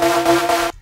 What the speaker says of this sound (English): some sort of laser-ish kind of like whooping